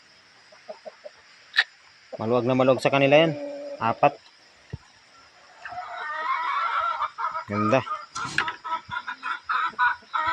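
Chickens cluck and squawk nearby in short bursts in a coop, with someone talking over them intermittently and a steady background hum.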